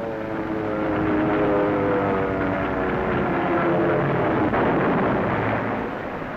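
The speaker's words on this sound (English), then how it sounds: "Typhoon and Spitfire squadrons of the RCAF, in savage combat, ran the Nazis' failing fighter strength into the ground." RCAF Typhoon and Spitfire fighter aircraft in wartime combat drone with a steady, fairly loud propeller engine roar that swells and fades slightly, with no voices.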